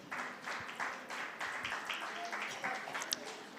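Church congregation clapping during a Sunday worship service prize announcement, a steady crowd patter of hands with murmured voices underneath, fairly quiet and continuous.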